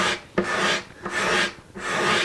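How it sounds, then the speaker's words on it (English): A scraper rasps across the wooden top of a Martin 00 style acoustic guitar, with three long, loud strokes separated by short pauses at close range. "there's just a little scraping to do here"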